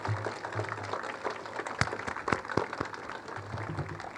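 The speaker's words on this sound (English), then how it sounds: "Let's give them a round of applause." Applause at an outdoor Veterans Day ceremony honoring standing veterans, a thin scattering of individual claps at a distance with a few sharper close ones, and low crowd murmur underneath.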